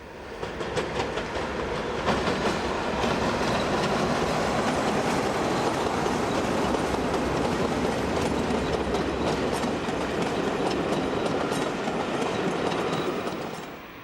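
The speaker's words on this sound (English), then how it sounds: "the Scottish Railway Preservation Society charter train arriving at Fort William Junction" A Scottish Railway Preservation Society charter train rumbles steadily into Fort William Junction station at close range, wheels clattering over the rails with occasional squeals as it rolls in.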